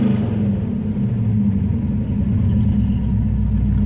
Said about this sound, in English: now, really high compression engine, here we go